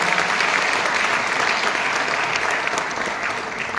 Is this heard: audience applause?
yes